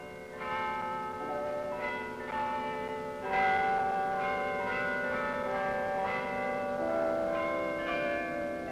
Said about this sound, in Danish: For første gang var klokkespillet på Oslo Rådhus Kongesangen utover.